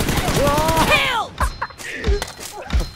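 Gunfire in PUBG Mobile during a team deathmatch, with a few sharp shots and thuds close by as players talk and shout over the action.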